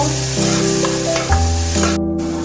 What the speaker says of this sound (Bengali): পেঁয়াজটা পড়ে গিয়েছে, লাল করে ভেজে নেব।